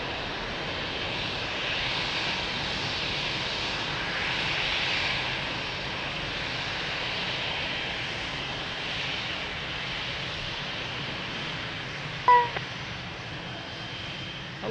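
An airliner landing at Lisbon Airport, its engines a faint, distant, steady roar and hiss that swells gently and fades over the stretch, with a brief sharp chirp late on.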